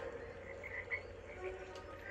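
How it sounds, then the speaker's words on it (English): Frogs croak steadily in a battle scene of the Lemony Snicket's A Series of Unfortunate Events video game. The repeated croaks sit over a constant low game ambience with no talking. "there are frogs"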